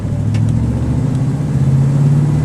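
A 1972 Ford Gran Torino Sport Fastback with 53k original miles cruises along, its engine giving a steady, smooth low rumble with even road noise and no speech.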